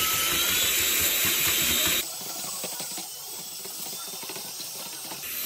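A mixer stirs epoxy for a full flake epoxy floor on slow speed, a steady mechanical whir with faint ratcheting texture, loud at first and then settling to a quieter, even churn.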